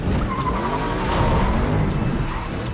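Batmobile tearing through a car chase, tires skidding and squealing over a loud continuous engine roar, dense and chaotic throughout with no talking.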